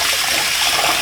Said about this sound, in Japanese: 真水でお米研いでいただいて